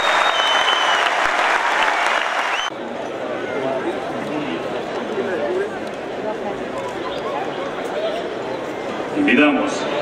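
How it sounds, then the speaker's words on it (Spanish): Loud, sustained applause from a large crowd at the opening ceremony of the 75th Chilean National Rodeo Championship, after an opening section of talk over the PA; the dense clapping continues steadily to the end, with a brief swell near the finish. "que demos el más fuerte aplauso a don Gonza"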